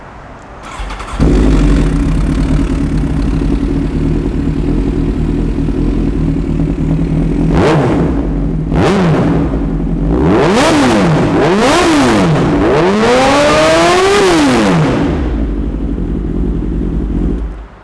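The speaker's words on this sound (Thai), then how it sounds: "ไหนฟังเสียงเครื่องยนต์กันครับ" Big-bike motorcycle fitted with an aftermarket CR7 exhaust idles loudly and steadily, then gets blipped through several sharp revs that rise and fall before it settles back to idle and cuts off.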